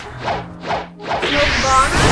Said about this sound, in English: Smoke blast.